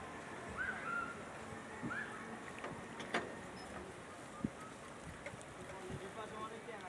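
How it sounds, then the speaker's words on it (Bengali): A wooden boat pulls away on the monsoon-swollen Teesta river near the barrage, with steady wind and water wash, faint chirps and a few sharp knocks as it sets off. "এই যে মাঝি নৌকা ছাড়বেন এখন"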